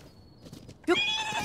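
A horse in the Zelda Tears of the Kingdom video game lets out a short, loud neigh after a moment of quiet game ambience with faint hoof sounds.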